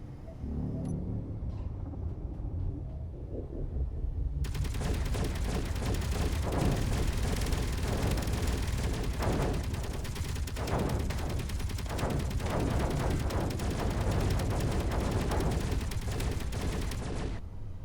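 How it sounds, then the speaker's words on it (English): Weapons fire in Space Engineers targets a mine-laying vessel near a shipyard: after a few quiet seconds, loud, dense rapid bursts of gunfire and impacts break out and continue almost without pause. "Commencing attack run, let's focus our fire on that mine-laying vessel"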